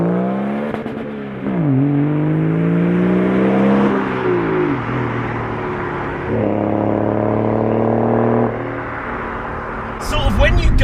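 A BMW 330d E46 diesel engine revs steadily in first gear past 2,500 rpm with wheels spinning, climbing in pitch, dips as a gear changes, then pulls up again, loud and close throughout.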